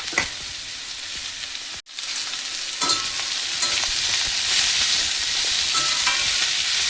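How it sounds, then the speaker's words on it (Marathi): Crushed bitter gourd frying with onions in a pan while being stirred, a loud continuous sizzle with scraping strokes, briefly cut off near the start before resuming stronger. "जे आपण कारलं ठेवलं होतं ना चुरून, ते आपल्याला टाकायचं आहे आणि ह्याला चांगलं आपण ना हलवत राहायचं आहे 2 ते 3 मिनिटं"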